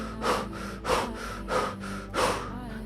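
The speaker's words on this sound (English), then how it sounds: "And you're going to do this O mouth breath." Four rhythmic, breathy exhales through an O-shaped mouth during a yoga breathing exercise, evenly spaced about every 0.6 seconds, close and fairly soft with a hushed airy rasp, no talking.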